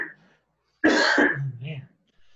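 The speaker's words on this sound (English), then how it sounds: "Just ignore the coughing" A single harsh cough or throat-clearing burst, close and fairly loud, followed by a brief rough vocal tail, then silence.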